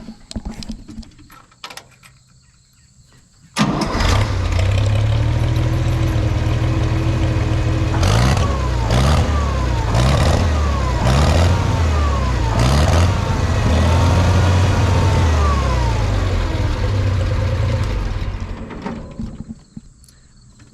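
A Farmall 460 tractor engine fires up and runs loud and close, a deep steady rumble with several rising revs through the middle before it cuts off near the end.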